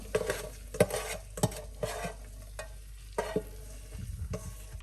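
Garlic sautéing in a slow cooker on sauté mode for beef carbonnade, with a soft sizzle under repeated spoon scrapes and knocks against the pot, close and steady, no voices.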